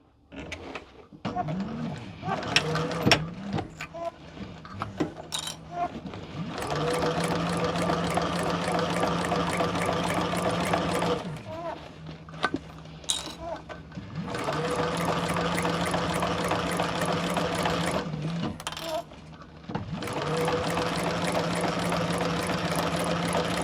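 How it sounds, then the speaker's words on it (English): An electric sewing machine with a cylinder arm stitches a handbag closed, its motor running in long steady bursts broken by short pauses and small handling noises, close and fairly loud. "then we're going to stitch that closed"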